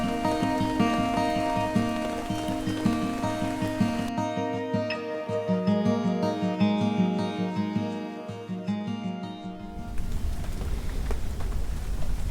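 Steady rain falls at Chassahowitzka River Campground in Florida, a continuous hiss of drops with a low tonal drone running under it for most of the stretch. No one speaks.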